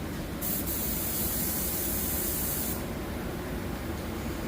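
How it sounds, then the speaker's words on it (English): Spray paint hisses steadily onto plastic parts during a custom paint job on a Harley Sportster 1200, a close, continuous airy spray lasting a couple of seconds within constant shop noise. "So what we're doing is spraying wet paint on plastic."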